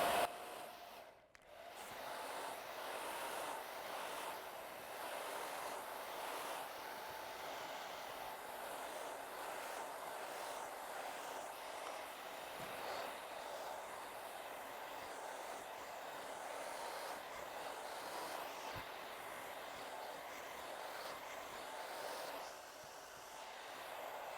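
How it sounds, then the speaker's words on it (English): A hair dryer blows steadily while hair is dried downward with a brush in a salon, a continuous airy whoosh at low level with slight surges, and no talking. "I'm taking the brush, locking it in, and blow drying it down"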